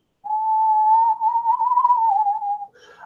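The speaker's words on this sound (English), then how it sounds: "It almost sounds like drums and a faint whistle" A steady, wavering whistle tone from a fantasy adventure scene at the Old Brasshelm Factory holds for over two seconds on its own, then breaks into a brief, different airy tone; no chanting or drums stand out.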